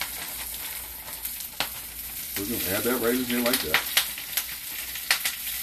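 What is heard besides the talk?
kale sizzling and popping in hot oil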